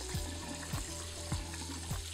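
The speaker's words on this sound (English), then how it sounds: "Drain the pasta and rinse it under cold water to stop the pasta from cooking and to cool it down faster." Cooked bowtie pasta drained and rinsed under cold running water in a kitchen sink, giving a steady close splashing rush with a few sharp knocks and clatters at regular intervals.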